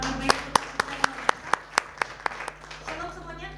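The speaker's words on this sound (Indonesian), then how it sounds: "Berkat tepuk tangan yang baik." A church congregation at a GBI Sunday worship service in Batam claps in steady, evenly spaced beats, sharp and fairly close, over a sustained musical hum with faint voices.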